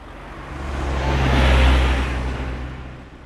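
A recorded car engine hums low and steady, swelling louder toward the middle and easing off again, with a broad rushing noise layered over the deep drone, like a vehicle passing close by.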